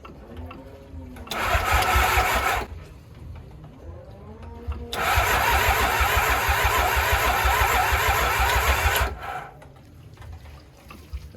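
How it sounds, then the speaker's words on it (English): Honda Goldwing 1500 motorcycle cranking on the starter in two long bursts, whirring and chugging loudly up close, with a rough idle pulse between attempts. "So let us just start this bike and we see if it runs or not."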